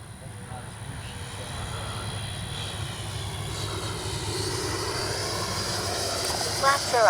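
FMS Avanti S 90mm RC jet making a slow, low pass with landing flaps down, a steady whooshing turbine roar that swells gradually as it approaches, with a voice speaking over it.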